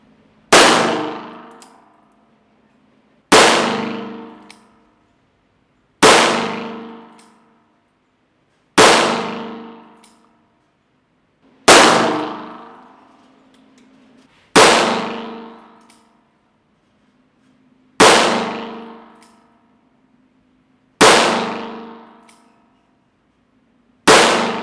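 A Taurus 856 Defender revolver fires nine evenly spaced shots at a steel target on an outdoor range, each sharp crack followed by a ringing metallic clang that fades over about two seconds before the next shot.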